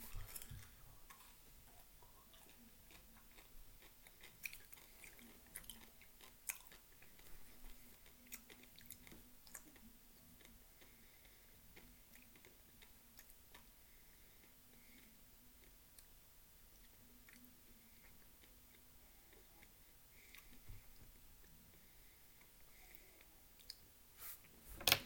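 M&M candies are chewed close to the microphone during a taste test, giving faint, irregular crunchy clicks and bites spread over a quiet stretch, with a few sharper snaps near the end and no talking.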